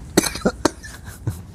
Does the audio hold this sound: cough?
yes